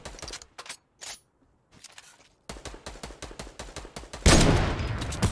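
Gunfire in Fortnite on PC: bursts of sharp shots separated by short gaps, then a loud, sustained stretch of rapid firing that fades slightly toward the end, with no talk over it.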